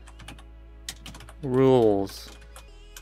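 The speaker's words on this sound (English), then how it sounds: "you click in here, and you start typing" Light clicking keystrokes tap on a computer keyboard in an irregular rhythm, close and fairly quiet, with someone speaking briefly in the middle.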